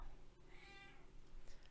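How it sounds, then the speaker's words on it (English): A house cat meows once, a drawn-out, clear call close by over a steady low background hum, with no one talking during it. "He's meowing."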